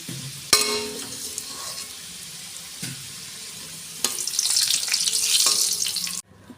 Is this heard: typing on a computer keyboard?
no